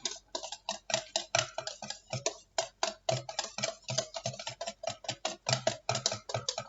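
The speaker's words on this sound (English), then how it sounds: "Whisking it up." A wire whisk beats cobbler batter in a bowl, giving a quick, steady run of sharp clicking taps that stay close and fairly loud, with brief gaps between strokes and no talking.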